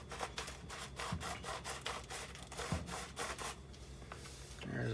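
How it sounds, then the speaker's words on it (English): A pepper grinder that works poorly grinds pepper into a pot of loaded potato soup, giving a quick run of dry, rasping scrapes close by, repeated in short rhythmic bursts. "this grinder doesn't work the best, so it might sound like there's a lot going in"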